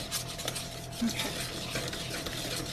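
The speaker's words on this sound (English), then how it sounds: "So you got to stir it really, really fast so that your eggs don't get cooked." Eggs being stirred quickly into cold water for buttermilk peanut butter brownie batter, a steady close scraping and swishing with light clinks of a utensil against the bowl.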